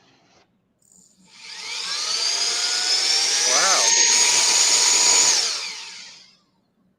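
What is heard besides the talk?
vacuum cleaner motor running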